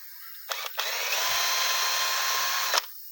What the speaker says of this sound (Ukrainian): Відразу беремо сверло.